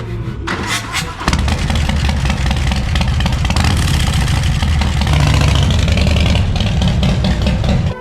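A Harley-Davidson 131ci Stage 4 motorcycle engine fires up after about a second, then runs loud and steady with a deep, lumpy idle that swells slightly partway through and holds close to the end.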